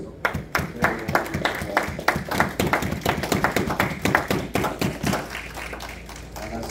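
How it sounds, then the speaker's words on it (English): An audience claps together in a rhythmic, evenly spaced beat at a religious camp teaching, a loud close run of hand claps that gradually thins out toward the end, with faint voices underneath. "Give them the barak a round of applause"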